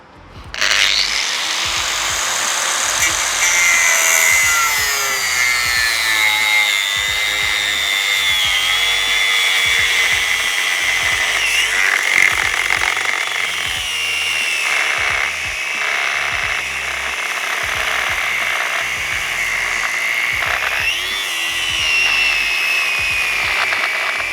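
Angle grinder disc cutting through a Hiplok MD1000 hardened steel lock, a loud continuous high-pitched whine and grinding screech that holds steady for the whole stretch, with slight pitch shifts as the disc bites.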